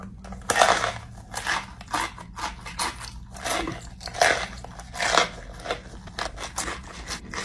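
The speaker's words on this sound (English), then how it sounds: "A lot of chewing, but no reaction." A spicy Omega pepper is chewed right at the microphone, loud wet crunches and bites repeating in an irregular rhythm over several seconds with no speech.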